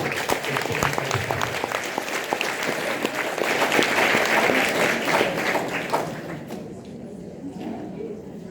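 Applause from a gathered Legion of Mary congregation welcoming a guest speaker, sustained and loud with dense clapping, swelling mid-way and then tapering off toward the end, with murmured voices underneath.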